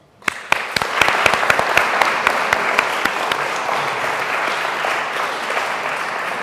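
An audience at an election debate in a school hall breaks into applause for the candidates, a few sharp early claps swelling quickly into sustained crowd clapping that stays loud and even.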